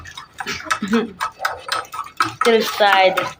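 Hot brewed coffee being stirred in a cup with a ladle instead of a spoon, giving repeated close clinks and scrapes of metal against the cup in a quick uneven rhythm, with someone talking briefly near the end.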